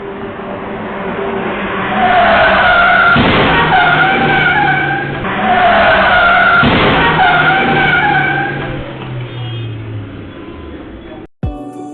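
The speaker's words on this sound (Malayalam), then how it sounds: "അമിത വേഗത്തിൽ മുന്നിലുണ്ടായിരുന്ന ലോറിയെ മറികടക്കാൻ ശ്രമിക്കുന്നതിനിടെ എതിരെ വന്ന കാറിൽ ഇടിക്കുകയായിരുന്നു" A speeding car overtakes a lorry and crashes into an oncoming car, caught on a roadside CCTV camera. Loud tyre screeching and engine roar surge twice in long waves, then end in a sudden sharp crunch.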